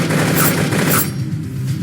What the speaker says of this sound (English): And now we have a slash attack.